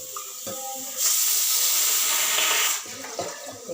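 Water pours steadily for a couple of seconds with a bright hissing splash while making tomato rasam, bracketed by small kitchen clatter.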